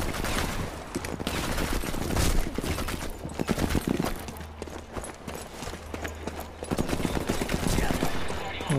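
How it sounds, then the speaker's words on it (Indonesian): Gunfire from a World War II era shooter, Sniper Elite 4, in Bitanti Village: bursts of assault rifle fire mixed with other battle noise, fairly loud and continuous throughout. "Apa sih ini tembakan AR?"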